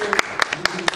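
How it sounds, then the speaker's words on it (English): A conference-hall audience at a creator awards gala gives brief applause, with scattered claps rising and fading over one second beneath ongoing room noise. "You guys can clap for her, she's awesome."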